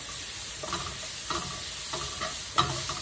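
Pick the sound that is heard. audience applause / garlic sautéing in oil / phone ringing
garlic sautéing in oil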